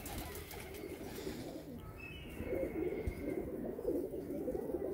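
Pigeons coo softly inside a loft, a steady low murmuring of several birds close by, with faint background noise and no voices.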